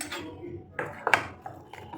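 A spoon mixes salt and turmeric into mashed potato paste in a bowl, giving a few soft scrapes and light clinks close by, with quiet pauses between them.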